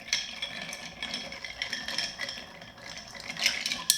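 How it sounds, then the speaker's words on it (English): A Caruso cocktail stirred in a mixing glass, ice swirling and clinking softly against the glass in a continuous close rattle, with a brighter knock near the end. "Let's go ahead and give this yet another stir right here."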